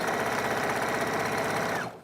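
A sewing machine runs in one continuous rapid burst while stitching a shift dress, a dense steady whir that cuts off abruptly near the end.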